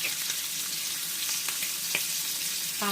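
Large Gulf shrimp sizzle loudly and steadily in a hot pan, with a few soft clicks and scrapes as they are turned over, no talking.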